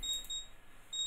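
A phone alert beeps in a high, thin electronic tone, sounding in short, evenly spaced pulses against a quiet background.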